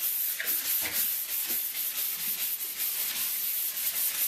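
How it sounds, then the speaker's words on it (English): A sanding sponge rubs across a painted wall in quick back-and-forth strokes, a close, continuous gritty scraping hiss with no speech. "I kind of like these sanding sponges though. They're real nice, they move quickly, they're great for getting in little edges."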